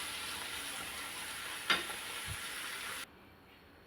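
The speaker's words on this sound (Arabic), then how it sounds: "هنا درت الزيت كيسخن." Oil heating in a pan for frying gives off a steady, faint sizzling hiss, with a brief clink of utensil partway through, before the sizzle drops away near the end.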